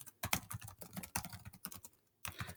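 Someone types a message on a computer keyboard, with quick irregular bursts of key clicks, a brief pause, then another run of keystrokes, heard close and fairly quiet with no talking.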